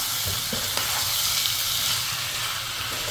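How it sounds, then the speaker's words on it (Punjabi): Potato and capsicum sabzi is stirred in a pan over a gas flame. A dense, steady sizzle and hiss run throughout, with soft spoon movements faintly beneath it and no talking. "ਗੈਸ ਦਾ ਫਲੇਮ ਘਟਿਆ ਤੇ ਸਬਜ਼ੀ ਕਰ ਦਿਓ ਜੀ ਮਿਕਸ"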